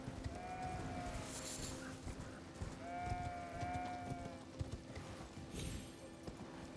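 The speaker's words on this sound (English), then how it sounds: "Sheeps." Sheep in Elden Ring bleating several times, the wavering calls fairly close over a low ambient game soundscape, with soft footstep-like clops underneath.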